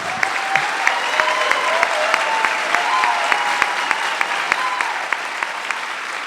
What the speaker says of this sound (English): applause is now permitted and warranted